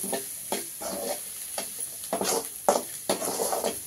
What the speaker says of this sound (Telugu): నేను కరివేపాకు ముందుగానే వేయలేదండి, అది నూనెలో వేగి బాగా కాగిపోద్దని లాస్ట్గా వేస్తున్నాను